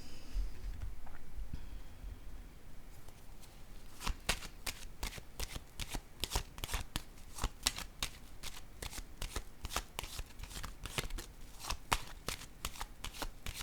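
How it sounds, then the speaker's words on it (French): Tarot cards are riffled and shuffled, first with a soft rustle and then with a long run of crisp, rapid card flicks and snaps, close and clear with no voice. "Je vais déposer une carte sur elle."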